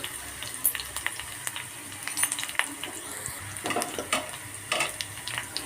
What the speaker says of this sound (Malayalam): താളിക്കാനായിട്ട് ചെറിയ ഉള്ളിയാണ് കേട്ടോ ഞാൻ എടുത്തിട്ടുള്ളത് കുറച്ച് ഉലുവ ഇട്ട് കൊടുക്കുന്നുണ്ട്